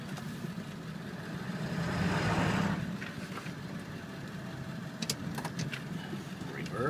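2000 Ford F250 diesel 4x4 regular cab pulling forward in four-wheel drive high, a low engine rumble that swells briefly then settles to a steady idle-like drone, with faint clicks near the end.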